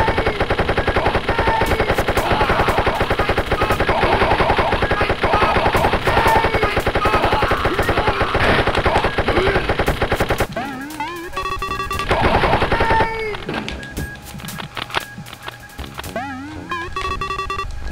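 Rapid machine gun fire in the first-person shooter Wolfenstein, a loud, continuous rattle of shots lasting over ten seconds, followed by scattered bursts over game music and effects.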